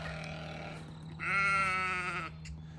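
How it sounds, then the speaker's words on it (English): A baby doll sheep bleats once nearby on a farm, a single wavering cry of about one second over steady low background hum. "Some baby doll sheep."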